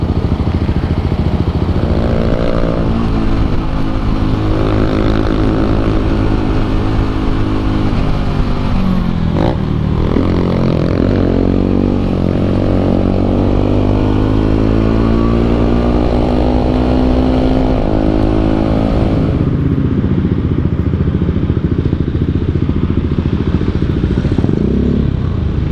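Loud, constant motor traffic rumbling nearby, engines revving up and down as motorcycles pass, with rattling and clatter mixed in.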